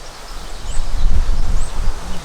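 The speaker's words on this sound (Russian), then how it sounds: "Поднялся такой ветрюга. Видите, как колбасит сосны и елки." Strong, warm wind gusting through pine and spruce trees around a riverside camp, a steady low roar that swells in the middle with rustling branches, no talk.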